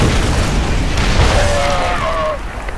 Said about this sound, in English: My tank's just in range to bomb CC to provide pressure